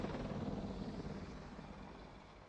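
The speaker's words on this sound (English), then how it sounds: "Like the dual-bladed helicopters are always really cool." A dual-rotor helicopter in an anime episode gives a steady, dense rotor drone with continuous low rumble, fairly faint and unbroken throughout.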